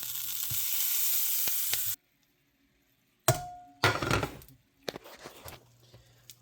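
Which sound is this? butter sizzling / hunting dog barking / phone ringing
butter sizzling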